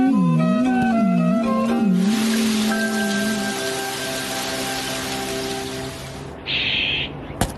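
Rain falls in a cartoon scene as a soft, steady hiss beneath a sustained musical score, with a short brighter burst near the end.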